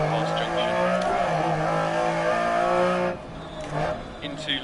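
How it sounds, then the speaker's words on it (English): A Lancia Stratos rally car fitted with a Ferrari engine, driven on a DiRT Rally stage, roars loudly and steadily with rising and shifting engine tones, then drops to a quieter, rougher note near the end, under a voice calling pace notes. "if you're wondering why it sounds so good, it has a Ferrari engine"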